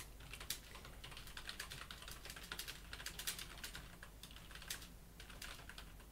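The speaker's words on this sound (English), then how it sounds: "We can hear you typing" Rapid, uneven clicking of fingers typing on a computer keyboard, close and fairly quiet, continuing steadily throughout with no talking.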